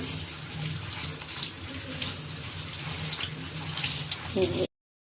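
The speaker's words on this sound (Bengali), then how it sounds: "এই যে কুমড়ো পাতাটা আমি ধুয়ে নিচ্ছি" Tap water runs steadily in a sink as pumpkin leaves are rinsed under it, a close, continuous splashing rush that cuts off abruptly near the end.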